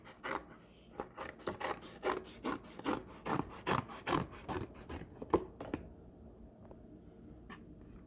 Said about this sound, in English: And then you're going to cut it into strips.